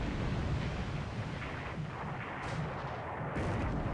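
A naval shell striking a cruiser during a battleship-versus-cruiser engagement in the War in the Pacific video game, heard as a continuous heavy rumble of explosive booms and roaring fire with no talking over it.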